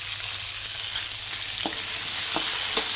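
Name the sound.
stirring peas and tomatoes with turmeric in a pan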